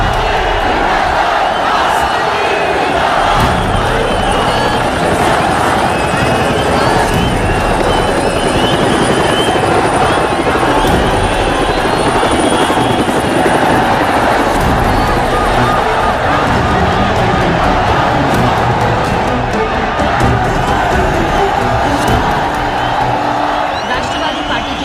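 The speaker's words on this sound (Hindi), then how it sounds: "हेलीकॉप्टर उतरा" A helicopter comes in to land at a large political rally in Madhopur, its loud rotor roar continuous and close throughout, mixed with crowd noise, cheering and voices.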